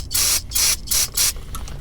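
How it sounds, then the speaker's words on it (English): Aerosol cleaner sprays onto an electrical connector from a power steering pressure switch on a Mercury Grand Marquis in four short, loud hissing bursts with brief gaps, then a fainter fifth puff. "I'm gonna spray the connector as well"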